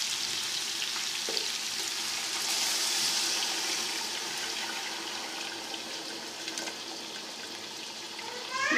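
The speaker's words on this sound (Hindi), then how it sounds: "अब हम इसमें शामिल कर रहे हैं यखनी" Yakhni stock being poured into a pot of fried chickpeas for chana pulao, a steady watery hiss and sizzle running continuously at moderate level with a few soft clinks.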